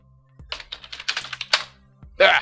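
Quick typing on a computer keyboard in a retro text game: a rapid run of sharp key clicks lasting about a second, then a voice comes in.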